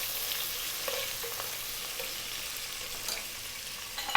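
Onion and garlic fry in a pan with a soft, continuous sizzle and crackle. A few faint clinks and stirring scrapes sound along the way, with no one talking.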